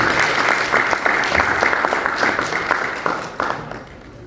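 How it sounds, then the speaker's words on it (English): Audience applause at an engineering society induction ceremony in Abuja, a dense sustained wash of many hands clapping that fades toward the end. "please feel free to clap if you want to clap"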